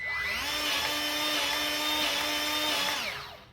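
A Milwaukee cordless grease gun's motor runs for about three seconds as a steady, close, high-pitched whine with a slight pitch dip, then winds down and stops.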